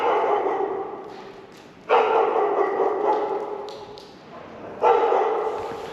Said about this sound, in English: I don't think those dogs were too happy about me being so close, and they were getting quite agitated